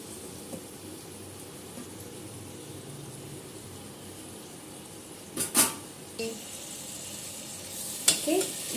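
Tomatoes sizzle steadily in a pan with a continuous hiss, interrupted by a few clanks of a utensil against the pan near the end.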